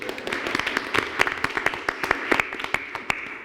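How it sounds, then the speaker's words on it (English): Applause at a Boynton Beach CRA board meeting: a small group claps steadily for several seconds, with sharp, irregular claps close by over a room murmur. "Applause."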